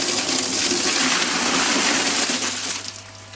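Water gushes steadily from a pond pump outlet through an opened floor valve, a loud continuous rushing flow with a low hum underneath that eases off slightly near the end.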